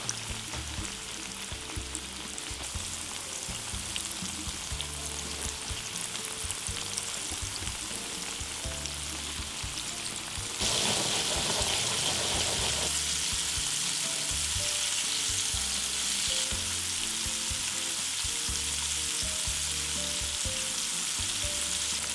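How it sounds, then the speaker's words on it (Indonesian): Japanese-style chicken karaage frying in a pan of hot oil, a dense continuous sizzle and crackle that swells louder partway through, with no voices. "Jadi kayak waktu kalian masukin ayam goreng fried chicken itu kan dia biasanya keras banget."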